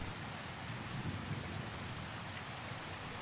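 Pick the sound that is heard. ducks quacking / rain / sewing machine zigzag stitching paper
rain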